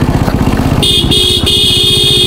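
A motorbike horn sounds loud and close on a narrow mountain road in Nepal. It gives two long steady blasts, broken by a short gap, over the bike's rumbling engine.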